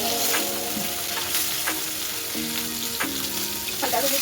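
Ilish fish frying in hot oil in a pan: a loud, steady, close sizzle with a few light clinks and stirring sounds, and no talking.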